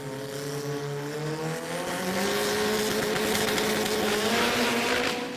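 Drag race car launching into a wheelie at a street-car drag meet in Adelaide, a loud engine roar rising steadily in pitch as it accelerates away, no voices.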